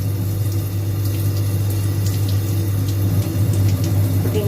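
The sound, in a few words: rinsing a microscope slide with water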